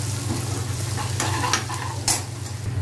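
Ginger garlic paste frying with onions in a pan for cluster bean bhaji, a steady close sizzle with a few stirring scrapes, no talking.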